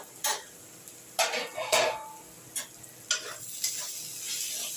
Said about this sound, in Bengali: এবার তাতেও এদের এই পেঁয়াজের সঙ্গে ভাজা ভাজা করতে হবে।